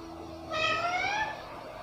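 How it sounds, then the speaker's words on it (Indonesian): A cat lets out one long, loud, drawn-out meow with a rising and falling pitch. It stands out clearly over a low background hum and fades away after about a second. "Ini kucing mami selalu ribut"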